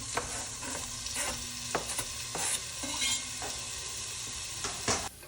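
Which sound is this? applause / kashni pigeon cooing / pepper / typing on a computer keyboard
pepper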